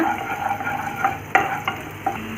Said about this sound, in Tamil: எண்ணெய் காஞ்சோன்னே ஒரு பத்து பல் பூண்டை பொடியாக நறுக்கி போட்டுக்கோங்க வதக்கிட்டு